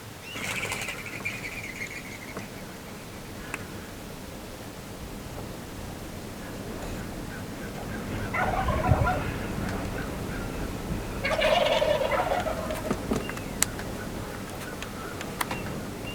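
Large wings flap and a bird calls amid steady wind-like hiss outdoors, with the flapping bursts rising mid-clip and a gobbling call near the end, no talk heard.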